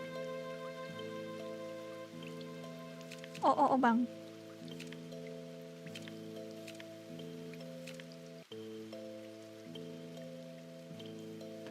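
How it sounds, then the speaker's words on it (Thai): Soft rain patters steadily in the video game My Sticker Book, lying faintly beneath a looping melodic music track, with a brief rustling burst partway through. "แต่ฝนตกแล้วนะ"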